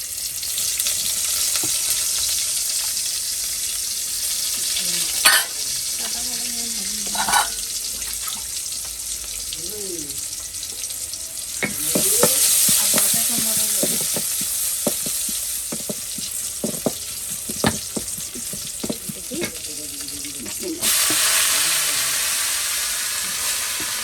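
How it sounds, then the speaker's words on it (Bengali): Chopped onion hitting hot oil in a home kitchen pan, sizzling steadily for a long stretch while a spoon scrapes and stirs in irregular clacks. A brighter hiss swells partway through. "পেঁয়াজ কুচিও দিয়ে দিতেছি।"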